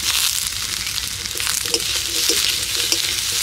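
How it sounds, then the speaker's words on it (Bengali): Cut eggplant pieces tumble into a hot pan with potatoes and sizzle steadily up close, with a few scraping stirs and clinks of a spatula over the constant frying hiss. "এবার দিয়ে দিচ্ছি কেটে রাখা বেগুন।"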